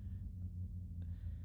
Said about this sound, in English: It's just a car or some kind of automobile.